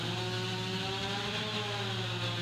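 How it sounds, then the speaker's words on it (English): A chainsaw cuts through downed trees left by an EF1 tornado along a rural road, a steady distant engine drone running continuously at low volume without any voices. "Off in the distance, a chainsaw clears away downed trees left behind from Sunday's EF1 tornado."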